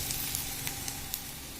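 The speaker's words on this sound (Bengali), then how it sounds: "দিয়ে দিচ্ছি আমি আদা বাটা।" Ginger paste and chopped onion fry in hot oil with dry red chillies and bay leaf, giving a steady, moderately soft sizzle with a few brief crackles on top.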